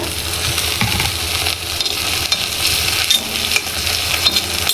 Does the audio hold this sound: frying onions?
yes